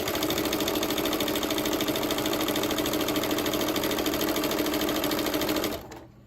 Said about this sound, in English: let it start feeding